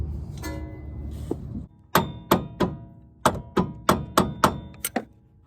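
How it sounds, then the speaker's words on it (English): A hammer whacks the front lower control arm of a 2003 Honda Element in about ten loud, close metallic blows, a quick cluster followed by a second burst, after some earlier handling noise. "Just gotta whack it while you pack it."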